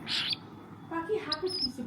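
Pet birds chirp in short, bright bursts while being hand-fed, with a few quiet calls close by and people speaking between them.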